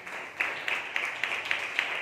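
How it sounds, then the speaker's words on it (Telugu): Congregation at a Sunday church service clapping in praise of God, a steady rhythmic run of about six sharp claps from a crowd over a dense bed of continuous applause. "ఇక్కడ చప్పట్లు దేవుడు స్తుతిస్తారా?"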